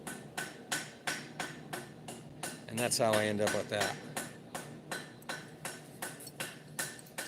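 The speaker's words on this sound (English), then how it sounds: "I use a ball peen hammer and a piece of wood," A ball peen hammer strikes a metal leaf against a piece of wood, giving steady, evenly spaced taps, soft and close, with a brief stretch of talk in the middle.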